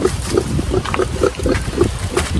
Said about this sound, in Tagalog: Tingnan nyo yung baboy ni Juan, oh.